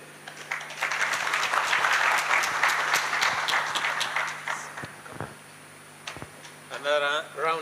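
An audience at an ITU-T Study Group 20 conference gives a round of loud, sustained applause that gradually thins out, after which a voice begins speaking.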